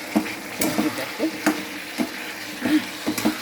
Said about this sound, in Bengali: সবজিটাকে দিয়ে আবার কষাতে থাকবো